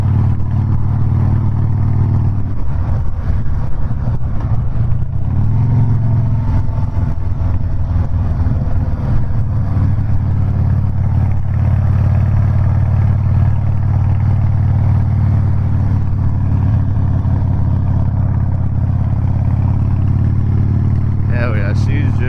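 A Harley-Davidson Softail motorcycle rumbles loud and continuous while underway, its deep engine drone mixed with heavy wind buffeting, and a rider's voice comes through over it.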